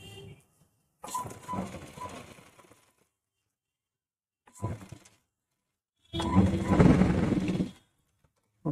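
A sewing machine stitching a gents' kurta collar runs in three separate bursts, a short whirring run, a brief clatter, then a longer louder run, with silence between them.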